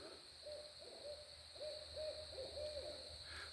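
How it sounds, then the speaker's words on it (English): An owl hoots in a steady series of about six soft, evenly spaced calls, distant over a constant background hum, with no voices. "We got some owl action."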